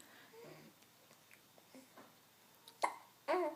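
A couple of sharp, sudden hiccups break a quiet room near the end, each a brief catch of breath with a small squeaky edge, after soft faint breathing noises.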